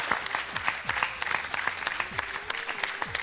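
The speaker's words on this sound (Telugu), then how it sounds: "సో చప్పట్లతో స్వాగతం పలుకుదామా ఇన్స్పిరేషన్ కి మిసెస్ జీడిగుంట శ్రీధర్ రామలక్ష్మి గారితో." An audience on a Telugu television game show applauds to welcome a guest, with fast, crisp claps from nearby hands standing out over a broad, continuous wash of clapping. A faint tone runs underneath, and no one speaks clearly.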